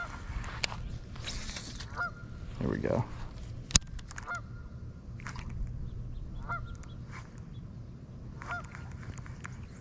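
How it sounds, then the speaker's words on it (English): A goose honks repeatedly in short nasal bursts at a moderate distance, with someone speaking briefly and outdoor background noise throughout. "that goose needs to be quiet, man. He's just barking his head off over there."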